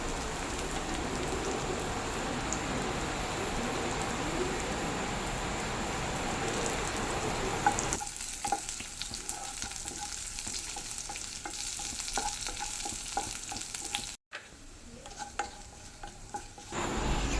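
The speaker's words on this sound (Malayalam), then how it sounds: "വറ്റൽമുളകും കറിവേപ്പിലയും കൂടി ഇട്ട് നമുക്ക് നല്ലപോലെ മിക്സ് ചെയ്ത് കൊടുക്കാം" Shallots, dried red chillies and curry leaves fry in hot oil with a dense, steady sizzle. Stirring scrapes and clinks come through as the hiss thins partway through, and a brief dropout cuts in late.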